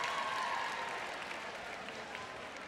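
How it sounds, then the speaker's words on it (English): Faint, distant applause from guests at a dinner event honoring a past president, a steady wash of clapping with murmuring crowd voices underneath. "can I have a round of applause for the president?"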